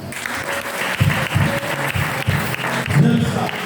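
A church audience applauds steadily, a dense wash of hand claps that stays loud and continuous throughout, with a voice talking over the clapping.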